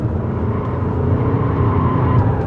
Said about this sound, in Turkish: Virajın içine gaza iyice basıyorum.